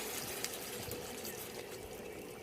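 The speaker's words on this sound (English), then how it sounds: "we are going to pour a little heavy whipping cream on it, just to coat it in" Heavy whipping cream poured over seasoned chicken for Tuscan chicken, a steady liquid splash and trickle running continuously at close range with no talking.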